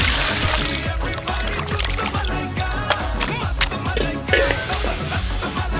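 Water is poured into a pot of mutton being cooked, a close, wet trickling and splashing with bubbling liquid and a few clinks of the vessel, steady throughout.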